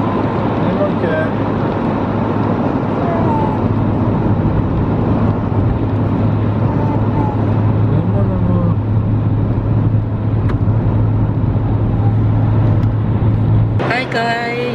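Car driving, heard from inside the cabin: a steady low road and engine rumble runs throughout, with a brief rustle near the end.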